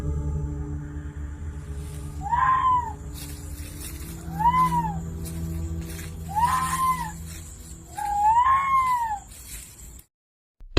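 Four drawn-out wailing screams, like a woman's, in a ghost recording. Each rises and falls, fairly close, over a hissy background, and the sound ends in a sudden cutoff.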